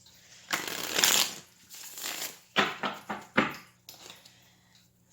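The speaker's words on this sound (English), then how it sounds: "I gotta shuffle them good because I don't want the same ones to come up" Cards being shuffled up close in several quick riffling bursts, separated by short pauses, with soft taps as the deck is squared.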